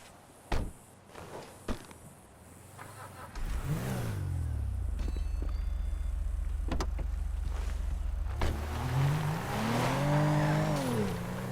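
A car engine in the video game GTA 5 idles low, then revs up loudly around the fourth second and holds a steady roar, with rising and falling revs near the end; a few clunks like a door precede it.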